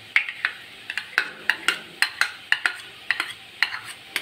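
A spoon clacks against a pan in a quick, steady rhythm as beaten yogurt is stirred into jackfruit, each scrape sharp and close, with a soft sizzle underneath.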